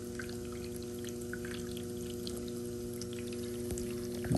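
A Bosch dishwasher takes in water through its inlet valve, a steady low hum with a continuous pouring rush that holds evenly throughout, close and moderately quiet, with no talking.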